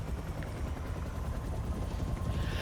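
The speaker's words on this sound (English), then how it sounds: "A helicopter takes off, carrying the glass-walled cell toward the raft prison." A helicopter lifts off in Marvel's Spider-Man 2, a steady loud rotor drone and engine rumble that holds evenly throughout, with no speech.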